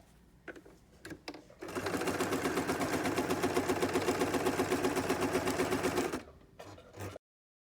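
Domestic sewing machine stitching fabric for a pet project: a few light clicks and handling taps, then a steady rapid mechanical whir for about four seconds, stopping with brief clicks after.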